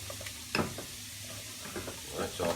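Onions softening over low heat in a pan for Catalan croquette filling: a quiet steady sizzle with a few soft stirring scrapes, close and faint.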